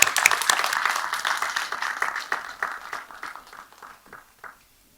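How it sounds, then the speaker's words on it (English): A conference audience gives a round of applause for nine award winners at a Teachers' Day event, the dense clapping starting full and gradually thinning out until it fades to silence. "I would like all of you to give a big round of applause for all the 9"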